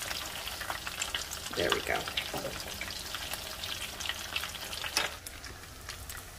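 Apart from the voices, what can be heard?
potato croquettes frying in a pan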